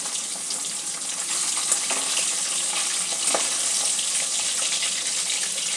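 Fish frying in a pan, a steady bright sizzle that holds loud and even throughout with faint scattered pops and no talking.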